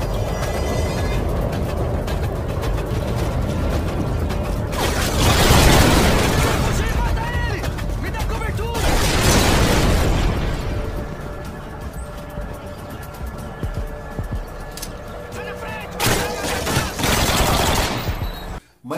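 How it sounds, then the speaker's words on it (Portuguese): Bursts of automatic gunfire in a Rio de Janeiro favela firefight in Call of Duty: Modern Warfare 2, loud rapid volleys that swell and fade in waves over a constant background din. "Você vê aquela corrida deles ali na favela, trocando tiro, cara."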